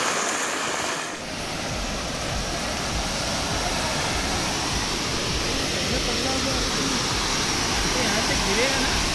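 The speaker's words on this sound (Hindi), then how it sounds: "और ये देखिए एक छोटा झरना बन गया बारिश की वजह से" A small waterfall formed by rain on a monsoon trek near Mumbai roars as a constant, dense, close wash of water, with voices faintly under it.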